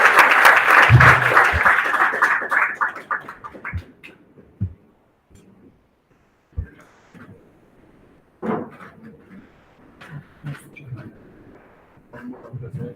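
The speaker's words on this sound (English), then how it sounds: "Big applause for these inspirational ladies." Audience applause for a panel of speakers at a startup conference, loud and dense for the first few seconds, then thinning into scattered claps and murmuring with a few bumps and knocks.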